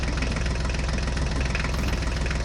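A toy vehicle pulling a loaded trolley runs with a steady, close engine drone and a fast knocking pulse, continuous and alone with no voices.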